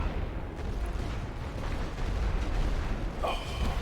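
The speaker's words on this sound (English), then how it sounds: "Oh, so the mortars can fire out of trenches." Mortar and artillery fire in the First World War strategy game The Great War: Western Front, heard as a steady, dense rumble of distant booms that runs throughout with no talk over it.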